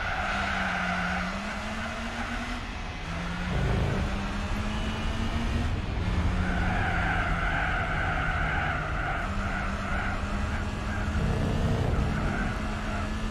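A naturally aspirated race car engine in Gran Turismo 4 holds a steady droning tone that rises and drops between gear shifts, with tire squeal layered over it, sustained and fairly loud throughout.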